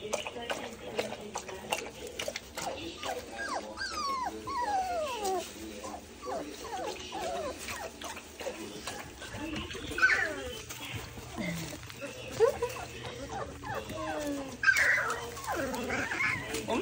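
Three-week-old British Labrador puppies whimper and yip in a pen, a busy stream of thin, rising squeaks and cries from several pups close by, with occasional louder yelps.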